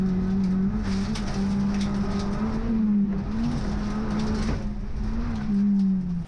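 Rallycross race cars, a bright orange Citroen Saxo chased by a Citroen C2, race at Lydden Hill. Engines drone loudly and continuously at high revs with slight pitch shifts, close and unbroken.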